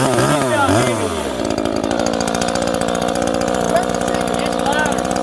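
A Husqvarna chainsaw with a 12-inch bar runs loud and steady close by, its buzzing engine note holding evenly after a brief start, with a voice talking over the opening moments.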